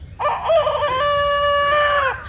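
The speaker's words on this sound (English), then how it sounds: "That's a pretty sad crow. He's got a deeper voice, man." A single young rooster crows once at close range in a deeper, rough, somewhat strained voice, holding the call steadily for about two seconds, with no talking over it.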